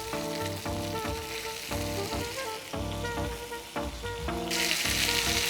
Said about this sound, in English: it's time to add in our liver. Don't overcrowd the pan. Should hear a sear.